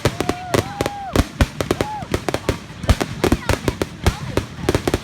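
Loud fireworks boom and crackle in rapid irregular bursts, with whistling rockets rising between them and people talking and exclaiming throughout.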